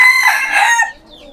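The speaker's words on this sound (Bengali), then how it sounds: "এখানে যে আমার সিল্কি মুরগিগুলো আছে এইগুলোরে দিয়ে দিলাম" Close, loud calling from silkie chickens in a backyard coop, a single drawn-out vocal cry that fades within about a second.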